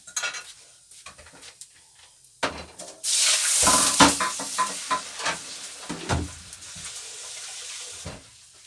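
Food frying in a pan, a loud hissing sizzle bursting up partway through, with utensil stirring and scraping knocks scattered before and after.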